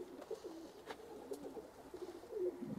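Tippler pigeons coo softly in repeated low, throaty phrases, close by, with a faint chirp now and then and no talk.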